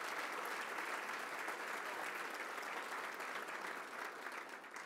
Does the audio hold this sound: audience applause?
yes